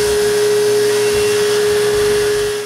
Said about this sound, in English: with my thinnest blade, I cut the bottom of the motor pivot block by raising the saw blade